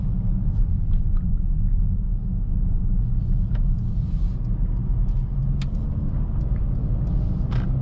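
A 2025 Mercedes-AMG A35 drives along with a steady low road rumble and engine drone, its transmission smooth and even throughout, with occasional light clicks and ticks.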